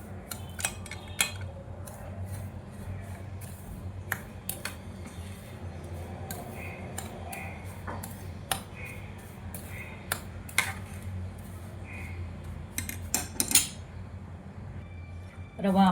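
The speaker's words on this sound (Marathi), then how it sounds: "रवा भाजायला जाड बुडाची कढई घ्या." Semolina roasting in a thick-bottomed wok for sweet jaggery sheera is stirred with a metal utensil, giving scattered light clinks and scrapes at an uneven pace over a low steady background rumble.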